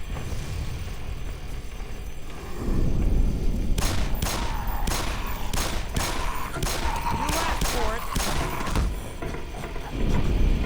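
Enemy gunfire in the Black Mesa video game, a steady run of separate sharp shots, close and loud, rattling out one after another over a constant background din.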